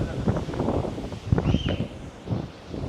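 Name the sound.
wind blowing outdoors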